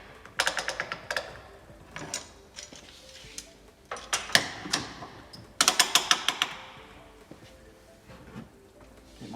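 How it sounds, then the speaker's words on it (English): A workpiece is clamped to a workbench for a small woodworking jig: sharp clicks and quick ratcheting bursts come close by, arriving in separate clusters with quiet gaps between them. "I'm going to clamp my workpiece to the bench"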